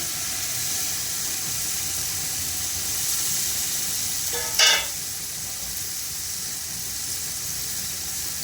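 A pan of mint and coriander sizzles steadily with a bright hiss, then a short louder sputter as ground paste is poured in, close and alone without talk.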